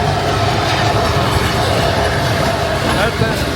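A narrow-gauge mountain railway train in the Carpathians, at Vișeu de Sus in Romania, runs full of tourists, giving a loud, steady rumble of wheels and rolling carriages with people talking over the noise.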